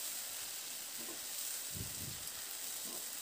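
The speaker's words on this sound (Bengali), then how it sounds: "একটু কষিয়ে নেব মশলাটাকে।" A spice paste with ginger and green chillies sautés in a pan with a steady, bright sizzle, broken by a few soft low thumps of stirring.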